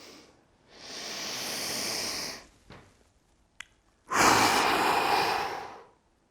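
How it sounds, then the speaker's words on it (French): A deep breath drawn in during a breathing and muscle relaxation exercise, a pause while it is held, then a long forceful exhale, both loud and close with a brief click in the quiet gap. "On va placer une grande inspiration, on va bloquer sa respiration quelques secondes et souffler au maximum"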